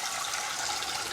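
Cold water running from a tap into a pan, a steady broadband rush that stays even and close throughout, with no voices over it.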